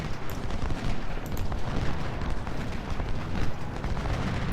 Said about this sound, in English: With that artillery fire, I'm assuming they probably have some artillery right there